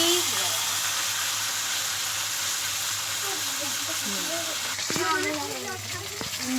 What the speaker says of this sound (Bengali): তোমরা ভিডিওটা দেখতে থাকো আমি মাছ ভাজছি